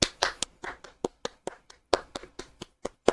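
Several people clap by hand in a sparse, uneven round of applause, about a dozen sharp claps over three seconds, fairly close and not very loud, with no talk.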